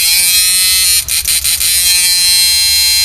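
A strong, steady electrical buzz from a low-battery power inverter hums loudly throughout, briefly stuttering and wavering in the middle before settling back into a constant drone.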